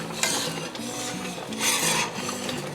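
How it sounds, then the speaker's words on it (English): A spoon stirs thick, boiling jalapeño pepper jelly in a pot, giving repeated scraping, rasping strokes against the pot in a steady rhythm, close and fairly loud. "Okay, I can't stir down this boil."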